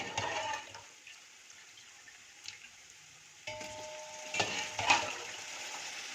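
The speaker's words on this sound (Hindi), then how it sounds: "फ़िलहाल हमने इन बोटियों को भूनना है।" Chicken pieces fry in a pot with turmeric and dried coriander for yakhni pulao, a soft steady sizzle with occasional scraping stirs and louder bursts near the end, no voices.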